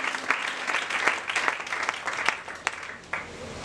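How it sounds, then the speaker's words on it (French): Church congregation applauding for the Lord during a French-language sermon, a dense sustained burst of clapping with sharp individual claps standing out, steady for several seconds before easing. "Est-ce qu'on peut acclamer pour le Seigneur?"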